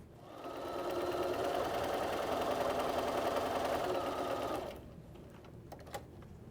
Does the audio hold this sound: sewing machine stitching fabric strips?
yes